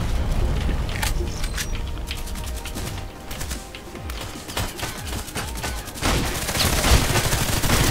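Gunfire rattles through a Contract Wars gunfight, with rapid bursts of sharp shots coming in clusters. Dense volleys open and close the stretch, and a sparser patch of crackling reports sits between them.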